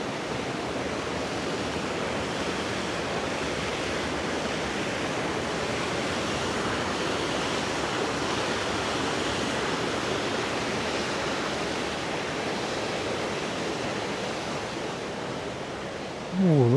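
River water flowing steadily beneath a bridge on a Scottish country walk, a continuous broadband rush that stays loud and even throughout, with no talk over it.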